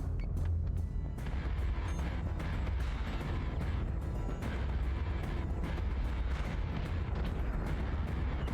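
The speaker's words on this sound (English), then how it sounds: "And now full barrage can fire on base star." A full artillery barrage fires on a base star in Battlestar Galactica: Deadlock, a continuous dense rumble of heavy cannon fire with sharp booming impacts layered over one another, loud and sustained throughout.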